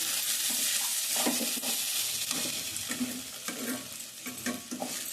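Masala curry with brinjal, dried fish and eggs stirred and fried in a pan, a steady sizzle broken by repeated scraping strokes of a spoon, close and fairly quiet with no talk.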